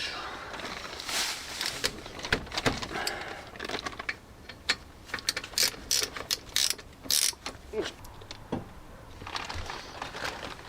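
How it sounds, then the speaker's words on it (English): A ratchet tightening the brake caliper bolts on a Land Rover Discovery 2, close, quiet bursts of rapid clicking that come in short runs with brief gaps between them. "Caliper bolts tight."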